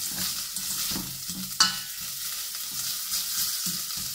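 Chili paste and chili pepper frying in hot oil in a wok for Chinese hot and sour soup, a steady close sizzle with stirring scrapes and one sharp clatter midway, no talking.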